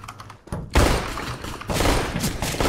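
Burst-fire gunshots in the video game CS:GO: a sharp, loud volley that cuts in abruptly after a quiet moment, followed by further rapid shots and impacts at close range.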